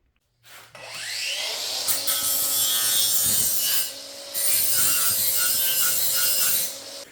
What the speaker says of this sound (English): the drilling for the top is done now